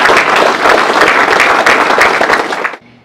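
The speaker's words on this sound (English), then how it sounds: "If you can give them a round of applause" Dense, loud applause fills the room from a Hall of Fame dinner audience honoring a coach, a steady roar of many hands that cuts off abruptly near the end.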